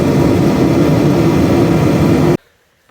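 Nissan G35 engine running at a steady, loud idle, a dense continuous rumble that holds for over two seconds and then cuts off abruptly into near silence.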